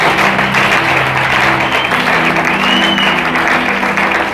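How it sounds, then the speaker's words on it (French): A congregation at an open-air Christian gathering applauds loudly and steadily, with sustained musical tones humming underneath throughout. "Est-ce qu'on peut donner une forte acclamation à Jésus?"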